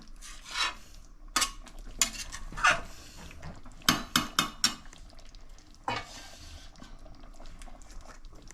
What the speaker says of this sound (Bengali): এখন আমি এর মধ্যে ক্র্যাবটাকে মিশিয়ে দেব